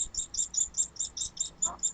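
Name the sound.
bird flying by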